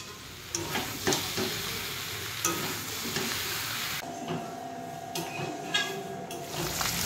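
Fish fries in a pan with a constant close sizzle, punctuated by occasional utensil taps and knocks and a faint steady hum in the second half; nobody talks.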